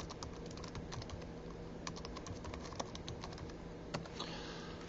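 Steady, rapid clacking of keys on a computer keyboard while entering commands in a Makefile, continuous clicks with a few sharper strokes, close and alone with no voices.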